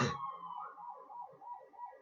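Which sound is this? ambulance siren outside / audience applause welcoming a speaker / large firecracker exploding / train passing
ambulance siren outside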